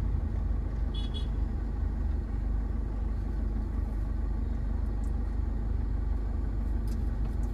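A car rolls slowly backward down a slope in reverse gear, its engine a steady low rumble throughout with faint traffic in the background and a brief high tone near the start.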